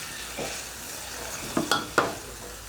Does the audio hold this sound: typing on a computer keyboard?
no